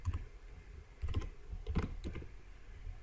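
Typing on a computer keyboard to enter a login, with several short clusters of soft, close key clicks separated by brief pauses.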